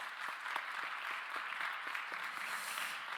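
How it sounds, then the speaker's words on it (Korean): A church congregation at a Sunday young adults' service claps steadily throughout in soft, even applause, heard at a distance with no talking. "우리 박수로 함께 환영했으면 좋겠습니다"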